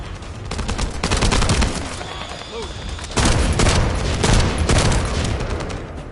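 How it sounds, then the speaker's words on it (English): Sustained gunfire in the PS5 video game The First Descendant: loud, rapid automatic bursts with heavy booming impacts, dipping briefly midway before surging again. "That stopped the gunfire."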